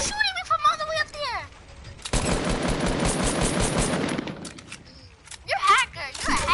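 Video game gunfire aimed at the player, a loud, sustained rapid burst of shots lasting a couple of seconds, set between stretches of excited, high-pitched talk.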